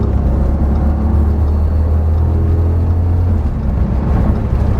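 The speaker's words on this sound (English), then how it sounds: "Ooh, let's give it some RPMs." A 5.2-liter V10 engine revs, its deep low rumble held steady and loud for several seconds before easing off, close by with no talking over it.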